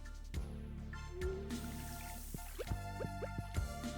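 Watering crops in the farming video game Stardew Valley: a string of soft splashing drips and small liquid plops over a steady background tone, with no voices.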